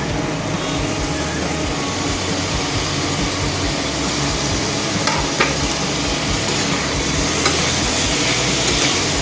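Khero with potatoes sautéed and stirred in a pan while its water cooks off, a steady loud sizzle with continuous scraping of the spoon throughout, no voices.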